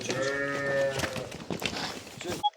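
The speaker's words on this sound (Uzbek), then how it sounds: "Mana bu qo'y, mana bu qo'zi-da, mana" Several sheep bleat close by, one long wavering call followed by shorter overlapping bleats, with people talking quietly in the background.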